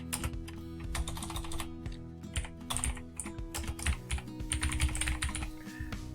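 Fast, irregular keystrokes on a computer keyboard while searching for Windows 10 system information, close and fairly quiet, with brief pauses between bursts of typing.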